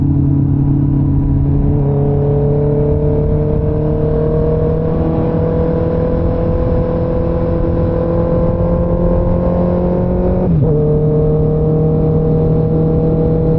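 A steady Honda CB650R motorcycle engine hums and drones throughout, its pitch rising slowly as it accelerates, then shifting briefly as it changes gear near the end.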